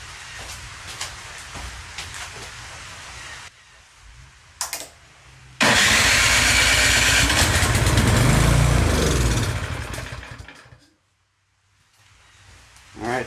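A Remington Powermore snowblower engine, running after a carburetor cleaning with a suspected fuel problem, cranks and roars loudly for several seconds, then cuts out and dies into silence; a voice talks briefly beforehand.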